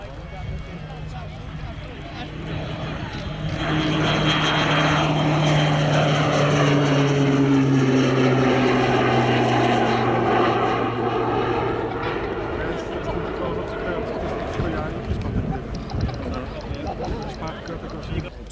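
A Royal Air Force display propeller aircraft arrives at the Cosford Airshow, its engine drone swelling loud and steady with shifting pitch as it passes, while an announcer talks over the public address.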